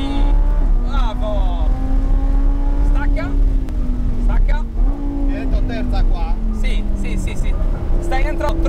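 A race car accelerates on track at Autodromo Mores, its engine note climbing steadily through gear changes from an onboard perspective, loud and continuous, with someone talking over it throughout.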